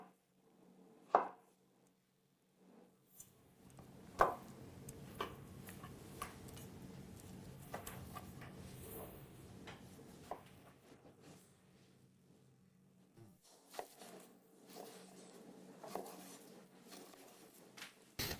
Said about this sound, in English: now we're going to cut some really nice cubes from it